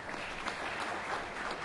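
Audience applause at an academic forum as a university finance professor is introduced, a dense, steady patter of many hands clapping at moderate level for the whole stretch, with no voices over it.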